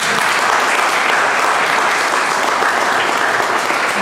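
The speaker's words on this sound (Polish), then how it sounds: "Brawa!" Steady, dense applause from a large audience at a ceremony marking the 100th anniversary of the Polish Friends of Children Society in Olsztyn, loud and continuous throughout with no break.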